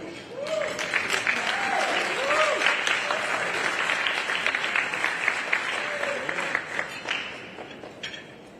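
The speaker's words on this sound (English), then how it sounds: "And another round of applause for the Black woman" A large audience at the Essence Festival civil rights roundtable breaks into sustained applause, dense and steady, with whoops and cheers rising above the clapping before it tapers off.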